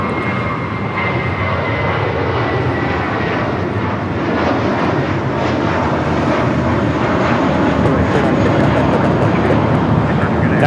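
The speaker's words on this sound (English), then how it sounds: "That is Spirit Airlines 496 taking off to Louisville on the A320." Spirit Airlines Airbus A320 jet taking off from LAX, a loud continuous engine roar that holds steady and swells slightly toward the end, with faint voices beneath.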